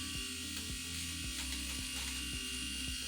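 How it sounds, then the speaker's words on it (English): A Kensen electric nose trimmer runs nearby, giving a steady high buzzing whine with faint repeated ticks as it moves, with no voices. "the last one I'm gonna check is the nose trimmer"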